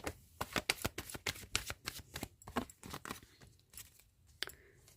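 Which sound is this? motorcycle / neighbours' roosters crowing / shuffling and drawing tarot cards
shuffling and drawing tarot cards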